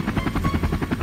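A helicopter heard up close, with a loud rapid rotor chop pulsing evenly over a dense low rumble through the full second, and no speech.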